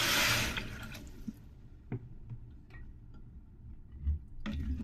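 Water splashes from a cup into a pot of measured rice and lentils in a short pour at the start, followed by a few faint clinks and drips in a quiet kitchen.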